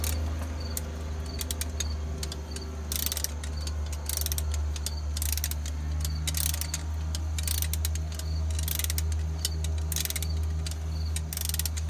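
A torque wrench set to 25 foot-pounds ratchets on an injector of a Detroit Diesel 671 bus engine, making quick bursts of sharp clicking repeated in short runs over a low steady hum, nearby and without talk.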